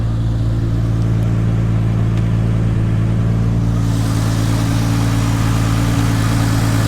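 A built 1997 Toyota Supra Turbo with a big Precision turbo and a blow-off valve idles loud and close, a steady deep rumble holding without pause and growing slightly rougher and brighter partway through.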